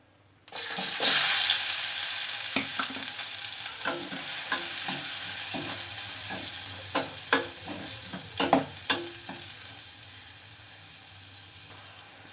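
Onion pieces hit hot oil for an egg masala curry, setting off a loud steady sizzle with occasional sharp scrapes and taps of a stirring spoon against the pan.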